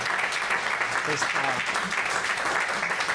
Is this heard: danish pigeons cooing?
no